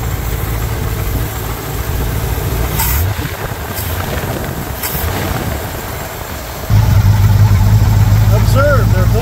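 A Ford F250 truck engine, left in a horse pasture for eight years and now fitted with larger carburetor jetting and metering rods, idles steadily with a low, loud rumble that steps up partway through while someone talks over it.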